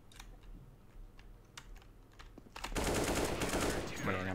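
Rapid gunfire bursts in Counter-Strike: Global Offensive on the Inferno map, loud and dense after a stretch of quieter clicks and taps, with faint talk underneath.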